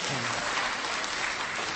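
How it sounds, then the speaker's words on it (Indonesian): Steady applause from an audience honoring a preacher's wife at a sermon on charity, a dense, even wash of clapping held at a constant loudness, with faint voices beneath it. "tepuk tangan buat istri yang sempurna"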